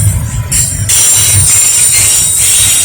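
A westbound Norfolk Southern train runs past close by at speed, its wheels squealing high and steady over a heavy rumbling clatter of railcars.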